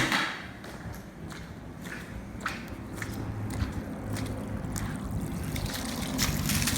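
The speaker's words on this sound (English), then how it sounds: "let's get the hose and get all this stuff mopped off" Water from a hose spraying and running across an epoxy-coated garage floor, a faint steady wash of spray with light splashes and a few soft knocks, heard fairly close with no talk.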